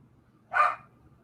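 One short, sharp dog bark rings out alone against a quiet background, moderately close and fairly loud.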